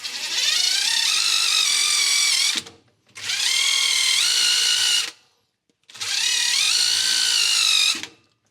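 A power-driven Scotch-Brite brush scours Lamborghini engine parts during a valve job, giving three long, high whirring bursts of about two and a half seconds each, separated by short silences, close and loud with no talk.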